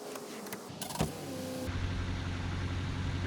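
A Subaru Crosstrek engine cranks briefly and catches, then settles into a steady, continuous idle with a low hum, heard close up in a quiet garage after an oil change, with no voices.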